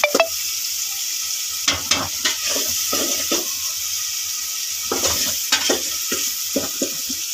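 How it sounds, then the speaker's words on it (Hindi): Tomatoes, onion and garlic sizzling in a pan for an egg curry, a steady close frying hiss broken by repeated scraping stirs of a spoon against the pan, with no voices. "अब टमाटर को गलने देते हैं थोड़ी देर, ये अच्छी तरीके से गल जाए।"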